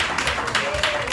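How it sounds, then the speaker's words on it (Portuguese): Church congregation clapping, a quick burst of uneven hand claps from a crowd indoors, fairly close, with a voice speaking over the applause. "Se assenta e bem forte as palmas para Jesus."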